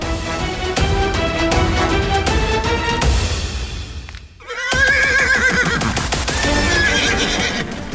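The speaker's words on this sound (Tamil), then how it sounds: "இந்த குதிரை ஏன் இப்படி வெறி கொண்டு ஆடுகிறது?" An agitated horse neighs and whinnies repeatedly and loudly, with shrill, wavering cries separated by a brief pause, alongside stamping hooves.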